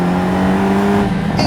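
Hyundai Elantra N (2022) engine held under throttle, a steady droning exhaust hum with strong low harmonics that stays even and loud throughout, no talk over it.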